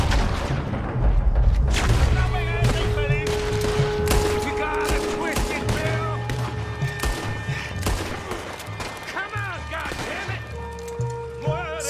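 Gunfire in the Red Dead Redemption 2 video game on Guarma: loud bursts of rapid shots and booms layered with a man's speech.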